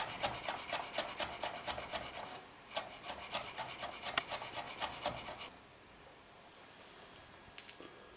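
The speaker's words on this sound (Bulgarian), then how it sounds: "започваме да нарязваме малко магданоз." A knife chopping parsley on a cutting board for a chicken, corn and mayonnaise salad, a quick, steady run of close, crisp cuts that pauses briefly, resumes, and then stops, leaving faint room noise.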